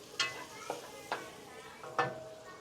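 Ingredients are sautéed in a pan, with a low sizzle and four separate scraping stir strokes spaced about half a second apart, close and alone.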